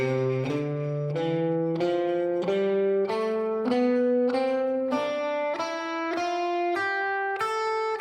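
Guitar picking a blues/rock scale slowly, one clear note at a time rising steadily in pitch, about a dozen evenly spaced notes heard alone and close.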